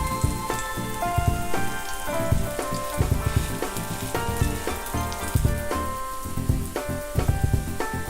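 Banana sweet rolls fry in oil in a pan with a continuous crackling sizzle and popping spatters, steady and close, over soft background music.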